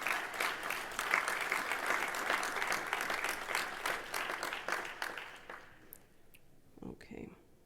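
An audience applauds congressional leaders at a voter protection event, a dense burst of clapping that swells and then thins out to a few scattered claps.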